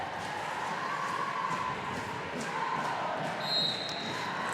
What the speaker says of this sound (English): The noise in the crowd right now is palpable.